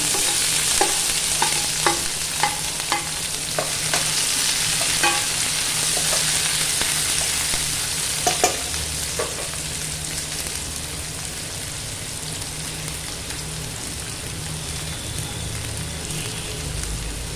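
Sliced onion and green chillies sauté in hot oil in a pan, with a steady close sizzle running throughout and several sharp spatula scrapes and taps near the start.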